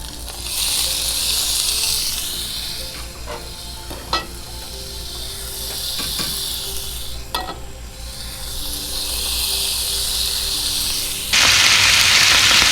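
Shrimp sizzling as they cook in a Forno de Pizza wood-fired oven, a steady loud frying hiss with occasional sharp crackles and pops that swells louder at the end.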